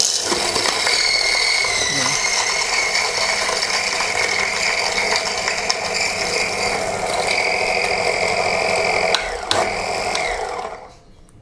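A steady, loud mechanical grinding whir from an electric coffee grinder grinding beans for V60 pour-over, running continuously for about ten seconds, then cutting out and winding down at the end.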